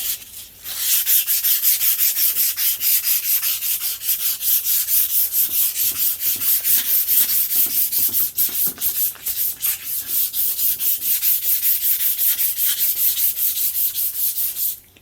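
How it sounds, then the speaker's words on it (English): Close, continuous abrasive rubbing of emery cloth on a motorcycle part, a hissy scratchy sound repeating in quick back-and-forth strokes, loud and steady with no talking. "This is literally the equivalent of belt sanding"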